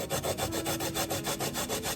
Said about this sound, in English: First, you need to grate daikon.